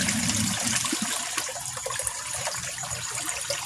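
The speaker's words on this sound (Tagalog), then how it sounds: "So ngayon, i-on na natin tong pump natin." A water pump rated 10,000 to 12,000 liters per hour running for a koi pond filtration system, heard as a steady close gush and trickle of flowing water with no speech.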